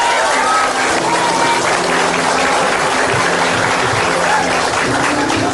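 Dense, continuous applause from a crowd, loud and close, with voices mixed into the clapping throughout.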